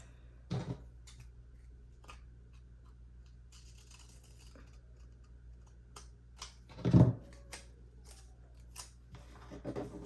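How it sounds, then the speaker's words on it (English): Scissors snip through a paper floral sticker on a planner dashboard in a few quiet, separate cuts, one firmer cut standing out midway, with faint handling noise between them. "I can take a floral, cut it, put something decorative there."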